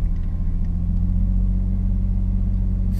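Lexus IS300 engine held at a steady rev of about 2,000 rpm, a constant low rumbling drone heard from inside the car, loud and even throughout with no talking.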